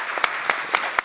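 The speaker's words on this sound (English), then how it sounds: "a round of applause for Ellen." A conference audience in a main stage hall gives a brief round of applause, a steady patter of clapping with a few louder accents.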